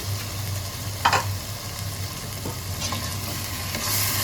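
Whole spices such as cumin, cardamom and cinnamon frying in a pan before chicken gizzard and liver go in, a soft steady sizzle with a few scraping stirs, no talking.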